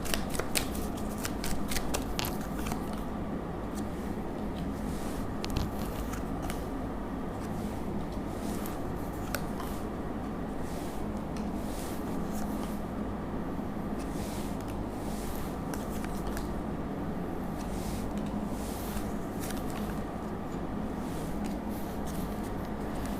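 A tarot card deck is handled and shuffled, producing steady soft rustling and riffling with brief crisp card snaps, close and alone, continuing without pause.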